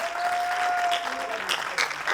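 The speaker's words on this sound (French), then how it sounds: "Applaudissez encore 3 fois pour Pou, s'il vous plaît." Audience clapping fills the room steadily throughout, a dense patter of many hands with a faint whistle-like tone early on.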